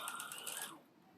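A Bernina sewing machine starts stitching a buttonhole over a thick number 5 cord, giving a brief, faint mechanical whir and rattle that fades out after under a second.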